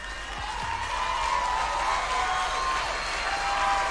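Audience at a Dave Chappelle comedy show cheering and applauding, a dense sustained roar of clapping and whoops with a few shouts rising above it.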